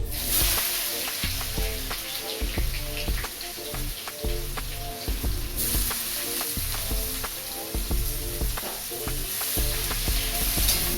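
Chopped onion hits hot oil already spiced with bay leaf, dried red chilli and cumin, producing a loud, close, continuous crackling sizzle with scattered sharp pops throughout.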